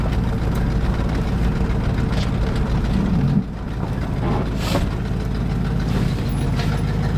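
A junkyard 1966 Ford Mustang V8 runs in a steady, low, rough drone that fails to rev up, with a brief dip partway through, loud and close.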